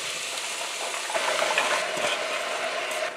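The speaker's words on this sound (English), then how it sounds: "So I'm going to add my pinto beans in it" Soaked pinto beans tumble into a pot with a steady sizzling, rattling wash of sound, loud and close, swelling briefly midway.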